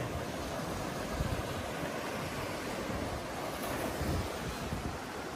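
Waves on the beach at Praia das Conchas in Guarujá on a sunny day. A steady, loud wash of surf with wind buffeting the microphone, and no voices.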